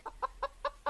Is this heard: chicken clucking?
yes